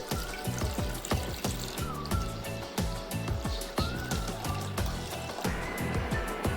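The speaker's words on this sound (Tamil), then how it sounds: "ஒரு பேனில் 1/2 liter தண்ணி ஆட் பண்ணிக்கோங்க." Half a liter of water pours steadily into a pan for making hibiscus tea, a continuous close splashing and gurgling stream with no one speaking.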